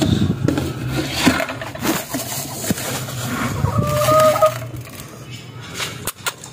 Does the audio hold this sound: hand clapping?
no